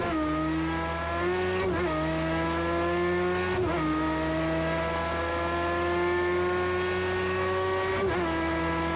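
Race car engine in the video game Project CARS 2 holds a sustained high-revving drone with sharp gear-shift dips roughly every few seconds, steady and prominent with no talking.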